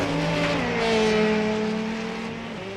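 LMP2 prototype race cars sweeping past at the 24 Hours of Le Mans, a loud sustained engine drone with a shifting pitch that fades slightly as they pass, with no voices.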